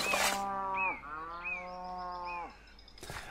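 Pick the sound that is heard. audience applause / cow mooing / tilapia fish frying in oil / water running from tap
cow mooing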